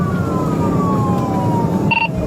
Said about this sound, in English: Officers activated their lights and sirens to pursue,